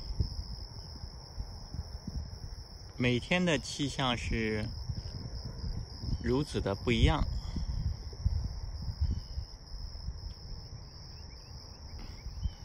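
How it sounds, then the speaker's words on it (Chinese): Crickets chirp steadily outdoors at around seven in the early morning under dark clouds on a windy day, a constant high trill running beneath someone speaking briefly. "可以安静的听到蛐蛐在叫。"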